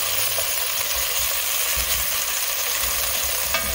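Garlic for a cream of portabella mushroom soup sizzles in a pan, a steady loud frying hiss with occasional light scrapes and knocks from stirring.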